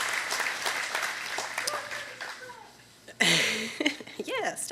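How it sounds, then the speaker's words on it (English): An audience aboard the USS Midway Museum claps in moderate applause under a speaking voice, with a louder, fuller swell of clapping near the end. "please give them a round of applause"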